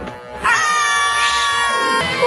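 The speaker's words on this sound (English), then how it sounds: "Scream." Loud sustained scream in the video game Bioshock, a high wailing cry that rises and holds for about two seconds, alone and close, with no talking.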